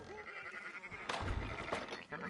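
Sheep bleating in Red Dead Redemption 2, a few wavering calls near the start followed by louder rustling and ambient noise, with someone talking over parts of it.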